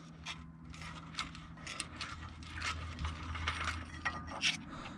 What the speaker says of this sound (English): Let me get the screwdriver on it.